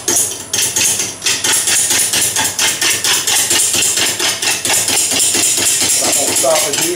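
A lathe gouge trimming an out-of-round Bradford pear wood bowl, taking small shavings, makes loud, rapid, rhythmic knocking chatter that repeats steadily throughout, close and dominant.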